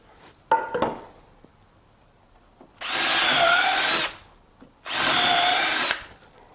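Power drill pre-drilling holes in wood while building a bench: two loud, sustained whirring bursts of about a second each, separated by a short pause, after some faint handling knocks.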